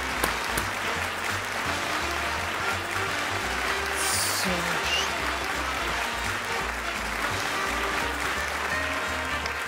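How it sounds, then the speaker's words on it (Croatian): A studio audience at a quiz show applauds the winner with a sustained burst of dense clapping that carries evenly throughout, with music faintly underneath. "Veliki aplauz za Karinu Majan, pobjednicu prvog sasvim običnog kviza."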